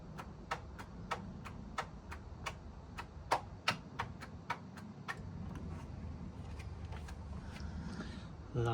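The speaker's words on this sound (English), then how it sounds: "it's clicking on the starter but it doesn't want to do anything." A Vespa GTS300 scooter, low on oil, clicks on its starter without firing, a steady run of sharp, fairly faint ticks at roughly half-second intervals over a low hum, with no engine catching.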